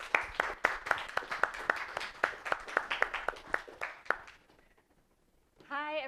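Audience applause welcomes a speaker to the stage at an evening talk: a few seconds of scattered, fairly sparse hand claps from a modest crowd that fade out, followed by a brief voice.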